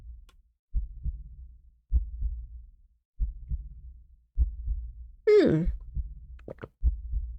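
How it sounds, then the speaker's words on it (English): Heartbeat effect from a visual novel video game thumps in slow, steady double beats that are loud and close, with a brief sighing vocal sound partway through and otherwise silence between beats. "That's the sound of my heartbeat."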